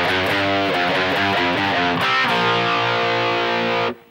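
A heavily distorted electric guitar plays the second phrase of a song, quick chugging chord stabs giving way to a held chord that cuts off sharply, loud and close without talking.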